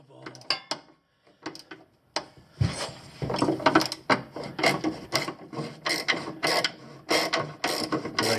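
Clicking ratchet and metallic clanks while loosening a fuel tank bolt under a Jeep TJ, starting with sparse ticks and then busy, close, irregular bursts of ratcheting and scraping.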